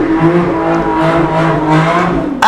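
Traffic on a very busy street passing just outside a window, a steady loud wash of car engines rolling by, with no voices.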